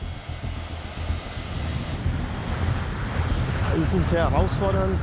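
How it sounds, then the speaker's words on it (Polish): Airplanes moving around an airport construction site give a broad, rising roar mixed with heavy wind buffeting on the microphone, and faint chirping birds appear near the end. "Wokół placu budowy ciągle kręcą się samoloty."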